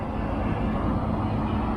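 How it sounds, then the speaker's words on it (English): A loud truck parked right beside a van, giving a steady, close low engine rumble that drones on continuously with no talk over it. "You think you get a nice quiet spot, you really park next to a really loud truck."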